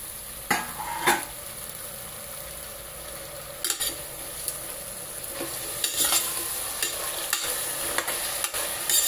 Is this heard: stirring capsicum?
yes